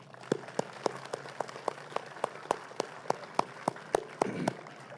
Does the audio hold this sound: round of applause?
yes